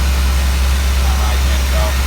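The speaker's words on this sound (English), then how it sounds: "Still feels like it's idling a little rough, maybe." A 7.4L 454 TBI V8 idles rough, a loud, close, low rumbling drone that holds steady for the whole moment, with a voice talking over it.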